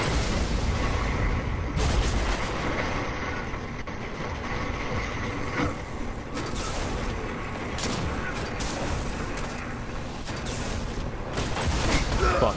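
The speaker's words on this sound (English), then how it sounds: "I'm using a fusion rifle" Fusion rifle in Destiny firing in a sustained din of booming, crackling game combat with mechanical clatter, loud and continuous throughout, with a voice occasionally breaking through.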